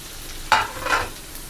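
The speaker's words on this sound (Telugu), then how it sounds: "ఇప్పుడు ఆనియన్స్ కొంచెం వేసుకోండి, ఎక్కువ వేయద్దు" Onions drop into hot oil already holding cumin seeds and cinnamon, bursting into a loud sizzle followed by a second frying surge as they are stirred, with no talk.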